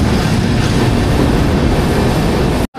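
12858 Tamralipta Express train arriving at a platform, a loud, dense, continuous roar and rumble close by, cut briefly by a short dropout near the end.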